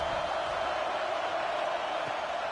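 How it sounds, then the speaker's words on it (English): A packed stadium crowd roars in a college football video game, a steady dense wash of massed noise holding at even loudness without breaks. "Listen to this crowd just shaking the girders of this place, trying to help their defense"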